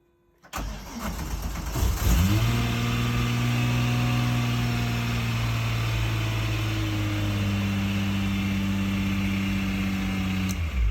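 A VW Corrado VR6 cranks briefly on its key-start wiring and catches, its engine settling into a steady, loud idle with a strong low hum that holds to the end.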